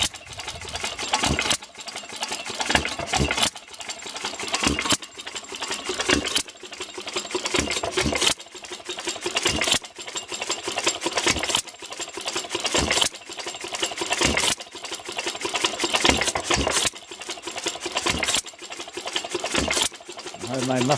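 Hit and miss engine with a homemade muffler, running close by with a regular chuffing beat that fires in repeated bursts of rapid pulses, steady and fairly loud.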